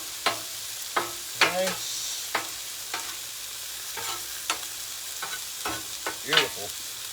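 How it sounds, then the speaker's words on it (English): Hamburger meat and rice sizzle in a pan on a griddle, with soft frying hiss under sharp scraping and stirring strokes at irregular intervals, plus a brief spoken word. "So hamburger and the rice are cooking up."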